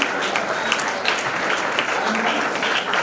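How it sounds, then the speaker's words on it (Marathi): Loud, dense applause fills a hall at an award ceremony in Vasmat, steady clapping from a crowd that continues throughout with no break. "एकदा जोरदार टाळ्या वाजवून"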